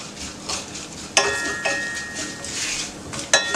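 Murungai keerai (drumstick leaf) powder mixture being stirred in hot oil in a pan, with a few sharp utensil scrapes and clinks against the pan over a soft sizzle, nearby and alone.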